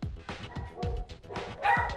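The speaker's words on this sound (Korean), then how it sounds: "제작진을 공포에 떨게 했던 헐크버드의 으르렁" An aggressive dog growls and barks at close range in a series of sharp, repeated bursts, with low snarling between the barks.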